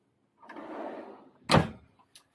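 A drawer in the kitchen of a 2021 Coachman Acadia 520 caravan slides open with a soft rolling rumble, then stops with a sharp knock, followed by a faint tap.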